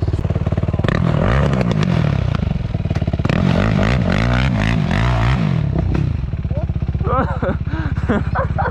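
Off-road motorcycle engine droning and revving loudly as it climbs a slope on a quad and motorbike trail, with clattering and scraping throughout and people talking near the end.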